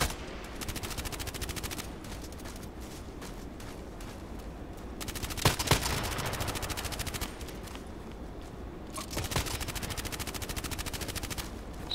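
QBU rifle fire in the video game Contract Wars sounds as rapid, sustained volleys of sharp shots, with louder bursts standing out partway through, and no talk.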